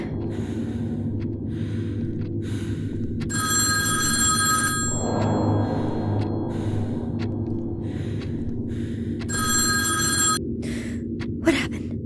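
A telephone rings in a tense radio play: two long electronic ring bursts separated by a quiet gap, fairly close and loud over a steady low background hum, with no talking during the rings.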